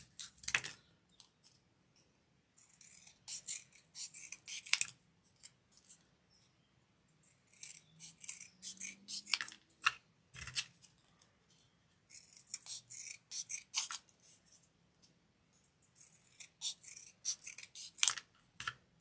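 Something being cut in half with scissors, a series of crisp snipping and rustling bursts in irregular clusters, close and fairly quiet with pauses in between.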